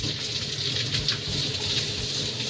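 Running water gushes steadily as carboy hoods, just out of a PBW cleaning soak, are rinsed under the flow, a close, continuous splashing with no voices.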